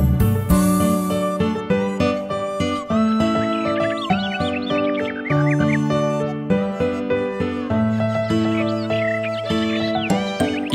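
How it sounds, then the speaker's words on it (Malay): Within a cheerful animated children's song, a flock of geese honks in short wavering calls over the bouncy music, with a busy, upbeat backing throughout. "Itu bunyi apa? Oh, sekumpulan angsa."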